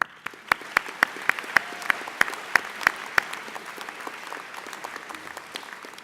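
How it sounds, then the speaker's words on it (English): An audience at a college convocation applauds; several sharp, evenly spaced claps ring out near the front over a softer bed of crowd clapping that fades out after about three seconds. "stop now and clap for yourselves and your families"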